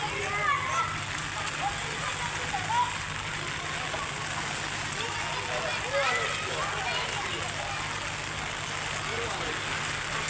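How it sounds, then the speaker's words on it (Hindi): Rain falling outdoors in Bahria Town in Pakistan, a steady, even hiss and patter that continues throughout, with a faint voice barely audible in the background. "लो मज़े बारिश के, खूब एंजॉय करो बारिश।"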